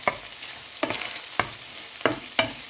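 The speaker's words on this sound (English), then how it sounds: "we put it on the one side of the pan and we saute the garlic and onion" Garlic and onion are sautéed beside browned minced pork in a pan, with a soft steady sizzle broken by five sharp scraping strokes of stirring at irregular intervals, close by and with no talk.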